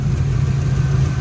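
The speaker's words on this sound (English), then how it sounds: "As you can tell, the engine runs nice and quietly" A 2002 Pontiac Trans Am WS6 engine idles smoothly and quietly, a steady low rumble heard up close for a brief moment with no talking.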